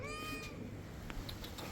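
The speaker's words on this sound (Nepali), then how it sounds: "म्याउ भन" A cat gives a short, close meow over a low, busy background hum, heard during a trip from Kathmandu to Syafrubesi.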